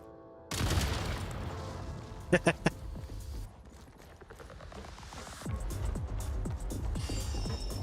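Gunfire in a video game quest plays close and loud, with a burst of rapid sharp shots and irregular popping and booming shots over continuous dense game background noise.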